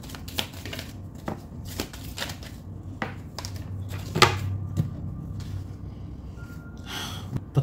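Tarot cards being shuffled and drawn during a reading, heard as soft, irregular papery flicks and light taps close by, with a few sharper snaps and rustles over a low room hum.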